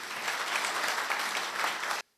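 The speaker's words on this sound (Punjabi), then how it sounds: "ਇੱਕ ਵਾਰੀ ਸੋਨੀ ਟੀਵੀ ਵਾਸਤੇ ਤਾੜੀਆਂ ਮਾਰੋ" An audience at a business meet gives Sony TV a brief burst of dense, steady applause, moderately loud, cutting off abruptly after about two seconds.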